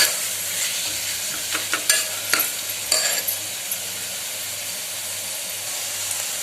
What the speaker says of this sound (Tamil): வெங்காயம் சேர்த்ததும் இஞ்சி பூண்டு சேர்த்து வதக்கினா அடி பிடிக்காம இருக்கும்